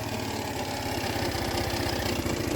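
A Baotian GY6 scooter engine idles erratically up close, a steady low rapid putter that wobbles slightly in pace without dying out.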